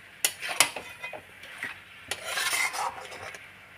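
Fish heads being stirred into a Bengali cabbage stem curry (kopir data chorchori) in a pot, with scraping utensil strokes and soft sizzling, a few sharper clinks early then a denser rustle of stirring later.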